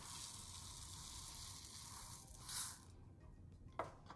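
Crystal rhinestones poured onto a rhinestone template, a soft continuous hiss of tiny stones scattering and sliding, with a brief louder rush near the end and a small click.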